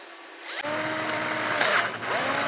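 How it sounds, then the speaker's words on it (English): A small drill turns a tap for a Helicoil repair of an M6 recessed hole, starting abruptly and whirring steadily at close range with slight changes in pitch as it bites. "I'm gonna put it in the little drill so it's a little bit more forgiving."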